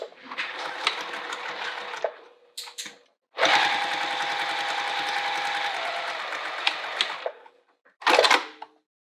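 Sewing machine stitching a wallet's card-pocket raw edge in sustained bursts of rapid mechanical whirring, with short stop-start pauses and brief clicks between runs; no talking.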